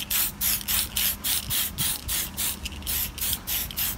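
Short repeated bursts of aerosol spray paint hiss onto a Tamiya RC Fire Dragon body shell, about ten evenly spaced pulses in a steady rhythm, close and moderately loud.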